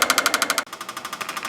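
A 1990 Jaguar XJ12 V12 engine idling after a fuel rail install, close up and loud, with a rapid, even pulsing rhythm and a brief dip partway through.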